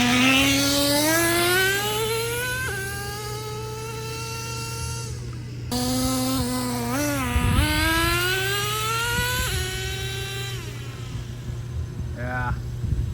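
A used Traxxas T-Maxx nitro RC car engine idles steadily with a high buzzing drone that wavers and blips in pitch, while people talk nearby.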